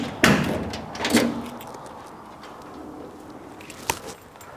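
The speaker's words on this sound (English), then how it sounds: "What I'm going to do now is open up the trunk" Trunk of a 1964 Chevrolet Chevy II Nova being opened, with a sharp latch click, a second thump as the lid lifts, then quiet and one more brief click near the end, heard alone at close range.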